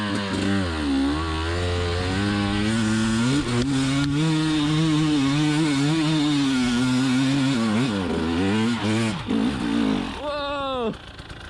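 A 2020 KTM 300xc TPI two-stroke dirt bike revs hard and accelerates in second gear, its loud, close engine note climbing and wavering steadily before dropping off and rising again at the end.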